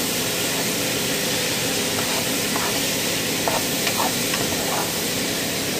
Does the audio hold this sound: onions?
yes